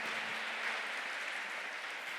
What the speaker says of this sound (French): Encore une fois, on applaudit Christopher.